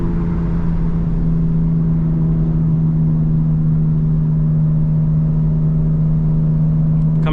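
A 900 hp 2025 BMW M4 Competition is driven through a turn in third gear, giving a steady, humming engine drone from inside the car that holds an even pitch throughout.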